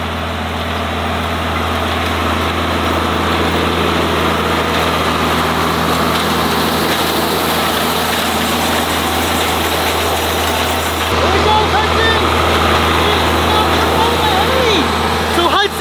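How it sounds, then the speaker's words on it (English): A big farm tractor engine runs steadily nearby at an idle-like rumble, loud and unbroken, with voices talking over it. "We're gonna take the big tractor out there to tether some hay"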